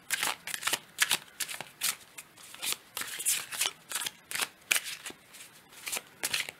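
Tarot cards riffle and slap together in quick repeated bursts, close and crisp, during a card reading, with no talking over the shuffling.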